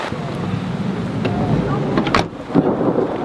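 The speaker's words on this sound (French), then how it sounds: "le truc un peu con, le orage qui se rapproche" Thunder from an approaching storm rolls outdoors near a small tent, low rumbles swelling with a couple of sharper cracks, over rain and steady background noise.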